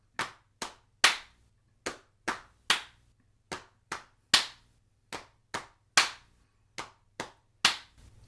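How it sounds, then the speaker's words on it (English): Hand percussion practice without a cajon: a steady lap, lap, clap pattern of slaps on the thighs and sharp hand claps, close and crisp, repeating evenly with no talking. "If we don't have any cajon with us, let's practice with our hand."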